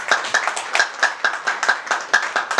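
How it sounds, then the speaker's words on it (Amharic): An audience at an award ceremony, where an artist receives a car as a prize, claps briskly and steadily in a continuous burst of many hands, fairly close. "ጭብጨባ ያንሳል።"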